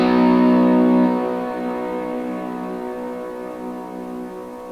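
An electric guitar chord rings through a Line 6 Helix with a second reverb stacked on the first for swirling ambience, starting loud and then decaying into a long, sustained, shimmering wash.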